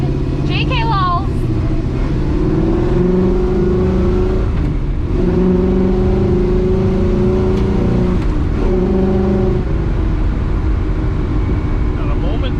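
A Chevrolet Nova engine hums and revs steadily while cruising, loud and continuous for the whole stretch, with people talking over it inside the car.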